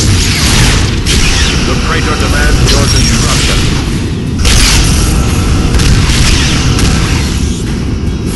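Phaser fire from the Star Trek NX-01 Enterprise comes as loud, heavy booming blasts with a sustained roaring wash, surging in several pulses over a dense sci-fi battle background, with speech mixed in.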